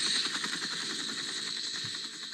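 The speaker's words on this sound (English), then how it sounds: "The copter's too loud." A radio traffic helicopter's engine and rotor drone steadily, loud and close, with a strong hissing band and a fast rhythmic chop running through the whole stretch, no voices over it.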